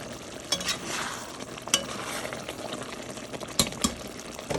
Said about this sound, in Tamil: எண்ணெய் கத்திரிக்காய் கறிக்கு இப்படி பொரிக்கிறேன்